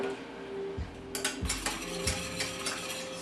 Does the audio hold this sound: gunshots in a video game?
no